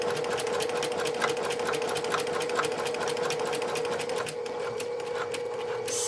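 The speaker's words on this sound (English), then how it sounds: "And now we're basting the center section." Sewing machine basting long stitches through the center section of a composition book cover, a close, steady rapid rhythmic whir running continuously, with no talk.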